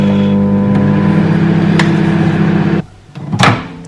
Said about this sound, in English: I'm just going to microwave this for a few seconds, like 30 seconds